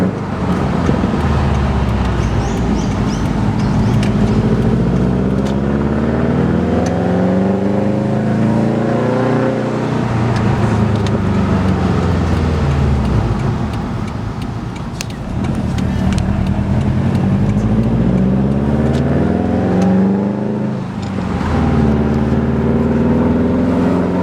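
A 2011 Subaru WRX STI fitted with a Tomei Expreme Ti titanium exhaust drones loudly and steadily while cruising, its engine rising and falling through gear changes and filling the cabin with a constant rumble.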